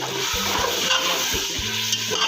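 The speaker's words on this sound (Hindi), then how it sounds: "इसको अच्छे से भून लेंगे हम।" Rice for tahari, a spiced rice-and-potato dish, frying in a hot pan with a steady close sizzle and a few soft stirring scrapes, no voices.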